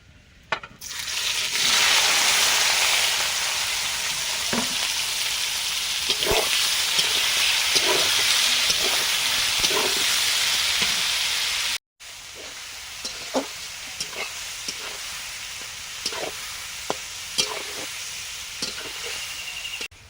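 Chopped onions fry in a pan with whole cumin and cardamom, a loud continuous sizzle and hiss broken by intermittent stirring clicks, and after a short cut the sizzle turns quieter.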